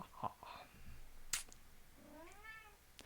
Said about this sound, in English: my impression of the count scared my cat